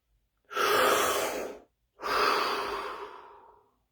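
Two long, deep breaths, a slow inhale then a fuller exhale, each lasting over a second with a brief pause between, close and soft against silence.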